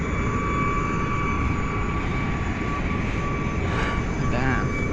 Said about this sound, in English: Damn, there's planes going above.